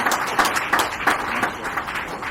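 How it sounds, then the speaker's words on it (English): An audience applauds at a plaque unveiling in Liverpool honouring a visiting Memphis delegation: dense, steady clapping from many hands, fairly close, with a few louder bursts and no talking over it. "let's give the Memphis delegation another big round of applause"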